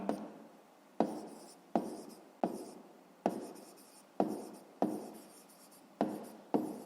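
A pen writes numbers by hand on paper in a steady series of short scratchy strokes, each starting with a tap and fading quickly, nine or so in a row, close and quiet with no voices.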